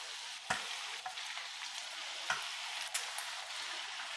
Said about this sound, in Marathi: तेलही छान तापलेलं आहे. आता आपण हे